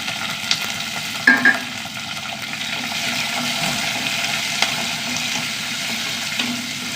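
Sliced onion, garlic and curry leaves frying in oil make a strong, continuous sizzle, with a sharp hiss burst and a few clinks from stirring near the start.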